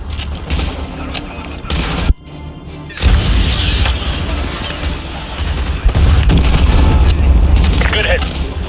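AGM missiles from Call of Duty: Modern Warfare 2 strike in loud, heavy booming blasts, with a sharp hit and a brief lull before the rumbling explosions resume and roll on, voices mixed in.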